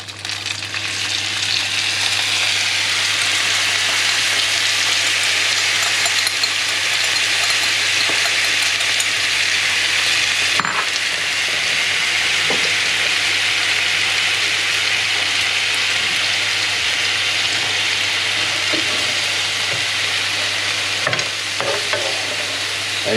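Abalone frying in a pan with sesame dressing, a loud, dense, continuous sizzle held nearby for a long stretch, with a few faint clinks and scrapes and no voices.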